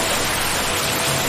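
Heavy rain starts in a Hindi cartoon story, a dense, even hiss of downpour filling the whole moment, loud and steady with no voices.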